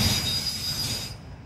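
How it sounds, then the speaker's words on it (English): A freight train rolls past with its caboose going by, steel wheels squealing in a loud, sustained high screech over low rumbling that cuts off abruptly near the end. "there goes the caboose"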